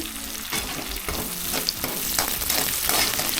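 Mint sprigs and a sprig of curry leaves frying in hot oil for a fish gravy, a dense steady sizzle with crackling pops building slightly louder, no voices.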